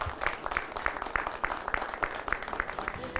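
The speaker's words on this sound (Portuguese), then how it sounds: "gostaria de uma salva de palmas para todos eles" A studio audience at a Brazilian TV program applauds steadily, with many hands clapping in a dense, even patter heard from the middle distance, with no voices over it.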